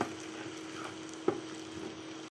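Chopped onions frying in hot oil in a pan, a steady broadband sizzle with a sharp utensil clink near the middle, close and continuous, ending abruptly.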